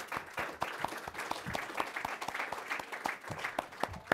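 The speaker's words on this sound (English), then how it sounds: "If you could all join me in a round of applause for our panel" An audience at a talk on attitudes and values within Pakistan's Army applauds a panel with quiet, steady, somewhat distant clapping that lasts the whole stretch, with a few sharper individual claps standing out.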